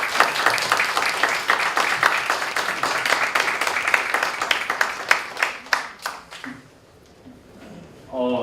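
An audience claps in a Korean lecture hall after a talk, steady dense applause that thins into a few scattered claps and fades to near silence before a voice returns at the very end.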